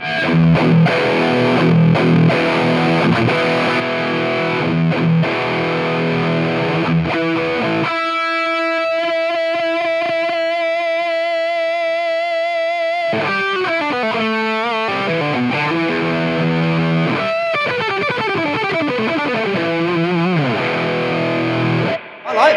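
A loud, heavily distorted electric guitar through a dimed 100-watt Marshall amplifier plays sustained lead notes and sliding bends, a thick saturated amp tone throughout.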